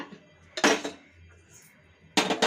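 A small metal tempering ladle clanks against cookware in a kitchen while making a beans kootu, two bright metallic clattering bursts about a second and a half apart, close and fairly loud, with quiet pauses between.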